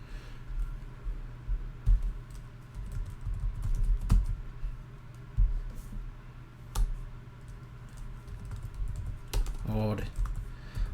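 Typing on a computer keyboard while entering a password during setup of a self-hosted cookbook app, scattered quiet key clicks with a few sharper taps, under low room noise.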